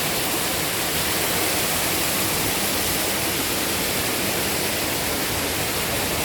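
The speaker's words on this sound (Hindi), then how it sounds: "यहाँ से भी चश्मे फूट रहे हैं।" Clear spring water gushes from rock inside a cave, a dense, steady roar that stays loud and unbroken throughout, with no voices.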